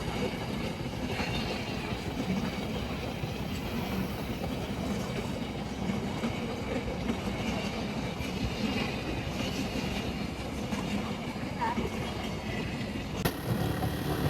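Near Kasimkota junction, a train passes a railway crossing with a steady rumble and a faint clickety-clack of wagons, heard at a moderate distance with a single sharp click near the end.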